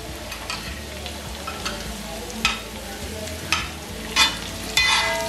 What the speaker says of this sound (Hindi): प्याज को भी मैं हल्का सा फ्राई कर लूँगी।